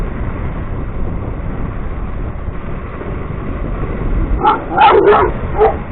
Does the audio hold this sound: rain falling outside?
no